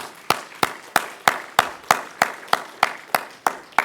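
A church congregation claps to welcome a deacon back during a Korean Chuseok thanksgiving service: about a dozen steady, evenly spaced claps in unison, close and moderately loud, with no talking.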